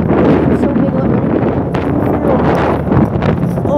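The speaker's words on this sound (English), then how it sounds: "You might not be able to hear me because of the wind" Heavy wind on a beach by big waves buffets the microphone with a constant loud roar and rumble, with gusts rising and falling throughout.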